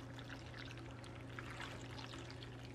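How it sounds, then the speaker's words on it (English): Liquid biochar mixture made with Sea-90 and alpaca manure, screened beforehand, is poured into a container, giving a steady, continuous splashing pour at moderate level with no talk. "I'm gonna pour all this in."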